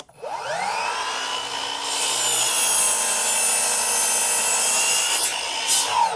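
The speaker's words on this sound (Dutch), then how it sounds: "Ik wil weten hoe die apparaat zaagt." A Milwaukee M18 FMS254-0 18V battery-powered crosscut saw spins up with a rising whine, then cuts steadily through wood with a loud, sustained buzzing hum before easing off.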